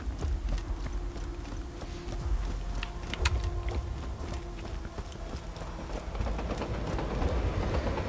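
A train rolls through the Borderlands video game, a steady low rumble with rhythmic metallic clacks and rattles sustained throughout at fairly close range, with no talking over it.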